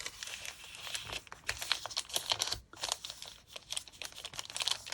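Paper creased and folded by hand into a paper bag, giving close, dry crinkling and crunching rustles in uneven bursts with brief pauses, and no voices.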